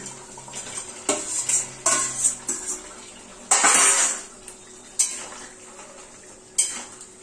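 Fried pointed gourds being tipped into a pan of spiced yogurt gravy, a series of distinct clattering knocks of utensil against pan with wet splashy bursts, close and fairly loud amid quieter gaps.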